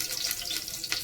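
Cinnamon fries in hot oil for Kerala-style chicken biryani, producing a steady, faint, hissing crackle that stays even through the brief moment.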